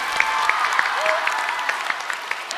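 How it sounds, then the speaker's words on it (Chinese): An audience at a televised gala claps for child performers, a brief burst of dense applause with sharp individual claps standing out. "来掌声再次给我们的孩子们"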